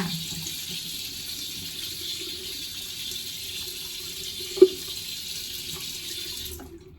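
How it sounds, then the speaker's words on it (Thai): Steady water running from a tap into a sink while a face is washed, one brief knock midway, and the flow cuts off near the end. "ล้างหน้า"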